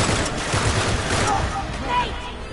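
Rapid gunfire in the video game Uncharted: The Nathan Drake Collection makes a dense, loud burst of shots and noise, with someone talking over it.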